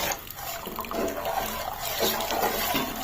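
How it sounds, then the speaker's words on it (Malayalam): Water pours steadily into a pot for sugar syrup, a continuous splashing rush that stays fairly even throughout, heard up close without talking. "ഇനി വെള്ളം ഒഴിക്കുകയാണ്"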